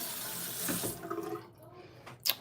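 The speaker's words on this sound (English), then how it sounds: "Let me fill up my water dish" Tap water running into a small dish used for rinsing brushes during a live painting session, a brief splashy gush that fades and then returns with a short burst.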